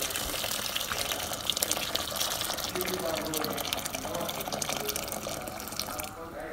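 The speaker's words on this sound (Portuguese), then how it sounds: "Na mesma panela, eu coloco o dobro de água da quantidade de castanha portuguesa." Water runs steadily into a pan of chestnuts for several seconds, a continuous close splashing stream that cuts off near the end.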